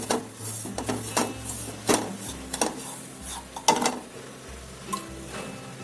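A spoon scrapes and clinks against a pan while roasted semolina is stirred in ghee. There are irregular scraping strokes and metallic taps, close and moderately loud, with no talking.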